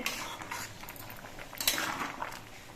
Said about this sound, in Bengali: হলুদের গুঁড়ো দিয়ে নেড়ে সবজিগুলোকে মিশিয়ে নিতে হবে